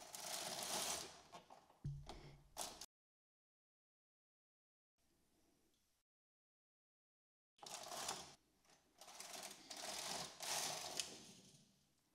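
Domestic knitting machine working rows of rib stitch: rapid mechanical clacking carriage passes in bursts, separated by silent pauses, with one faint short run between louder sweeps.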